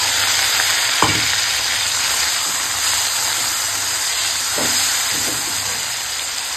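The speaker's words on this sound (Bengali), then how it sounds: "ওই তেলে এখন পেঁয়াজ কাঁচা লঙ্কাটা দিয়ে ভেজে নেবো।" Onion, green chili, chopped tomato and ginger-garlic paste frying in hot oil, a steady close sizzle and hiss with a few soft stirring clicks and no talking.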